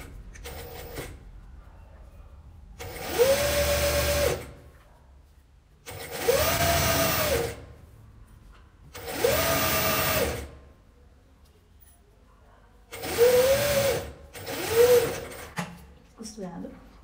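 A sewing machine stitches fabric for a simple pillowcase with a French seam: five loud whirring runs of a few seconds each, separated by quiet pauses, heard up close while someone talks at times.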